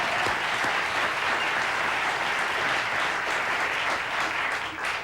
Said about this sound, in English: John Belushi, big round of applause for that.